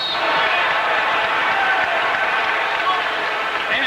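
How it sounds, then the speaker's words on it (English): Basketball arena crowd of Los Angeles Lakers fans cheering during a 1989 game against the Portland Trail Blazers, a sustained roar of crowd noise and clapping with a commentator talking over it. "the Laker fans cheer"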